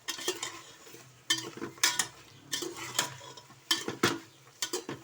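Mutton qorma being stirred in a cooking pot, with repeated scraping, clattering strokes in an irregular rhythm, close and fairly loud, and no talk over it.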